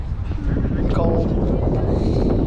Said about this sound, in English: because it's windy out